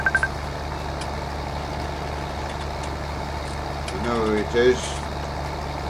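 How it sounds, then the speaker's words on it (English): A tractor engine hums steadily in a field while drilling oilseed rape, a low constant drone with a brief louder mechanical rise near the end, and someone speaks a few words over it. "I can't talk whilst I'm driving the tractor."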